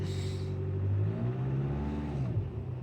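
A Skoda Superb's engine revs up, rising and falling in pitch as it idles steadily, heard close up with no talking.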